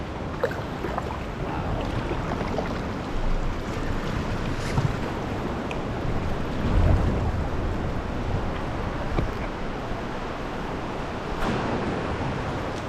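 Ocean swell washing into a rocky cave area, a steady broad wash of surf with rising surges as larger waves roll in, mixed with wind buffeting the microphone.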